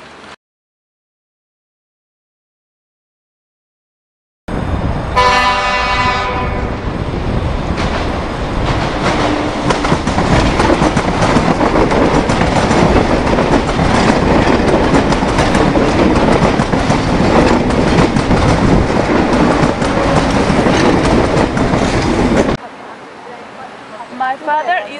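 Train running on rails, a loud continuous roar with rhythmic clatter that starts suddenly after silence and holds steady for about eighteen seconds before cutting off to quieter sound.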